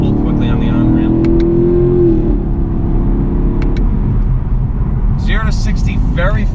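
A 2018 Chevy Camaro SS with its exhaust open pulls hard up a highway on-ramp, its engine note climbing loudly for a couple of seconds and then settling into a lower rumble while people talk inside the car.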